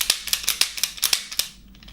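Airsoft replica revolver being cocked and its stiff trigger pulled hard, giving a quick run of about ten sharp, close mechanical clicks and snaps that fade into quiet near the end.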